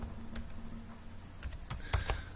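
Computer keyboard typing a Perl script, a handful of quick close key clicks in short irregular bursts over a quiet background.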